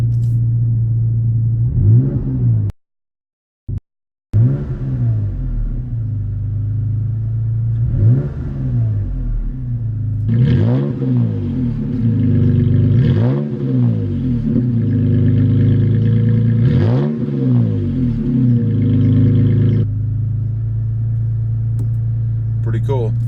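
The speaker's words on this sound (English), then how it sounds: "Let's give it a couple of revs here." Toyota Tacoma with an MBRP dual exhaust, heard close as the engine idles with a deep rumble, cuts out briefly, then revs repeatedly in several sharp rising-and-falling pulls, a voice speaking between them.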